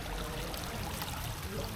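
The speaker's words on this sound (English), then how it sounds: "They have a really, really cool water feature" A decorative water feature with fish and a turtle at a riverside café in Saigon, heard as a close, steady splashing and trickling flow that runs unbroken and fairly soft, with no one talking.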